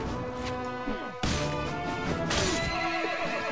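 A horse whinnies in the Mount and Blade: Warband medieval combat game, with a long, loud neigh riding over busy battle noise and clattering, then a second outburst of crashing later on.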